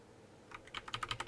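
Typing a command on a computer keyboard in a Linux setup: a quick run of about eight light key clicks, close and fairly quiet, after a brief silent start.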